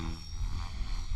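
An RC helicopter flies nearby, a steady droning whine with a low rotor throb held through a brief moment.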